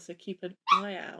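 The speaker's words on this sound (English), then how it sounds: "there was a dog barking in the background" A short, close sentence of speech gives way to a dog in the background letting out a quick high yip that trails into a whiny bark, heard alone right after the voice.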